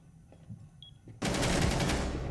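Gunfire in a ranked Rainbow Six Siege match: after a quiet stretch of faint game noise, a loud, sustained burst of rapid automatic shots erupts and keeps going to the end.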